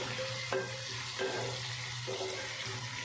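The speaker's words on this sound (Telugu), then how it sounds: "చూడండి ఉల్లిపాయలు కూడా మగ్గినాయి ఆయిల్లో" Onions sizzle softly in oil in a pan for masala vada pulusu, a quiet steady fry with a few brief clinks from stirring and no voices.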